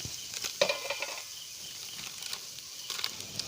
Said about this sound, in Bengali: দেখুন আমি যে আলুটা গ্রেট করে রেখেছিলাম সেই আলুটা আমি দিয়ে দিচ্ছি।